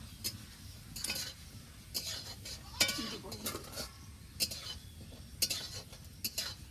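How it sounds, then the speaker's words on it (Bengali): Mung dal frying in oil in a pan while a spoon stirs it, producing a soft sizzle under irregular scraping and sharp metallic clinks of utensil against pan. "মুগ ডালটাকে নেড়ে চেড়ে একটু হালকা লাল লাল করে ভেজে নেব।"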